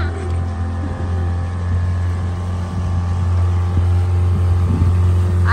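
A motorboat ride on open water near an island, with a steady low engine drone running throughout and water and wind noise washing over it, close and continuous.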